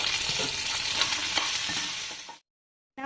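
Tindora (ivy gourd) being stirred and fried in a pan with turmeric and salt, a steady close sizzle with scraping stirs for over two seconds before cutting to silence, then briefly resuming.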